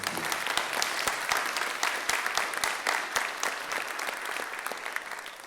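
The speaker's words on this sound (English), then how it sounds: "Please give them a round of applause." A ceremony audience claps in a round of applause, with individual sharp claps standing out from a steady crowd patter that runs for over five seconds and tapers a little at the close.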